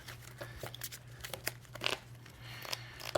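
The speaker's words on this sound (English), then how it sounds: "Don't know why I keep shuffling my discard" A discard pile of Pokemon cards being shuffled by hand, soft crisp riffling and sliding card noises coming in quick irregular bursts, close and fairly quiet, with no voices.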